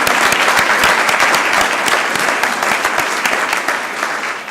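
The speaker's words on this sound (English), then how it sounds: "Let's give them a round of applause." An audience at a city council meeting claps in steady, dense applause that holds throughout and tapers slightly toward the end.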